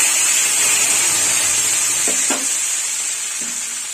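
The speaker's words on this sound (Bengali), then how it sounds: "1 চামচ ডাল দিয়ে দিলাম।" A spoonful of pigeon pea lentils drops into hot oil tempered with bay leaves and mustard seeds, giving a loud, steady hiss and crackle with a few utensil knocks.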